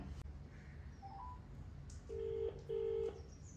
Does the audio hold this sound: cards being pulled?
no